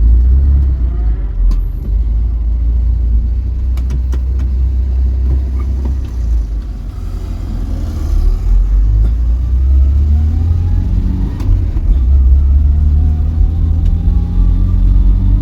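Vauxhall Viva salvage restoration car engine revving up through the gears, a loud continuous rumbling drone with rising pitch sweeps as it pulls, recorded close with heavy low-end roar.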